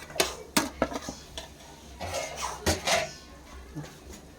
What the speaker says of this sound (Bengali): এবার আমি ভালো করে নাড়িয়ে নেব।